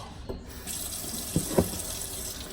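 Tap water runs steadily into a sink to wet a tumbler cup before wet sanding with 400 grit paper, a continuous splashing flow with a few brief louder splashes.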